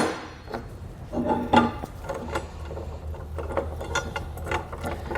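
Hand tool loosely threading flange nuts onto Firestone Ride-Rite Red Label Extreme Duty air helper springs during assembly, giving scattered soft metallic clicks and ratcheting taps at close range, no talking.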